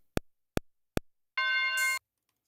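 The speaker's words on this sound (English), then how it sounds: "That's the bell." Three short, evenly spaced percussive hits are followed by a bright, sustained bell-like tone lasting about half a second, played on a music production instrument such as an MPC X SE, Arturia AstroLab or Roland Fantom EX 7, clean and isolated.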